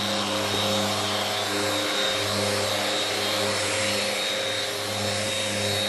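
A vacuum hooked up to a cutting pad runs steadily, giving a constant, loud droning whine with a steady tonal hum underneath. It sounds close and continuous, with no talk over it.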